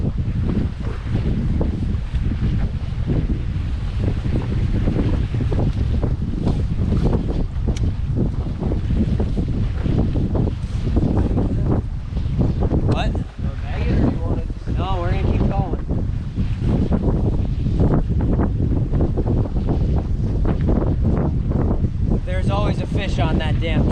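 Steady loud wind buffeting the microphone on a fishing dock, a broad constant roar with waves beneath and brief bursts of talk over it.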